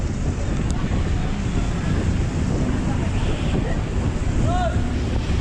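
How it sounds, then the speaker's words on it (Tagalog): Strong wind from a typhoon roars steadily into the microphone with heavy low rumble throughout, a faint bird chirp cutting through near the end. "malakas ang hangin"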